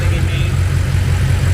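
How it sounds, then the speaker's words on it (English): A 1200HP BMW X6M engine runs steadily at its first start-up, a loud, continuous low rumble close by, with a voice talking over it. "That engine running, gang."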